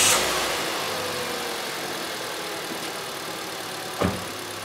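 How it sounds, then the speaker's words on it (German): A generator engine runs at a steady idle, a constant even mid-range hum with a brief louder knock or thump near the end, heard alone without talk. "und lasse den Motor im Standgas laufen."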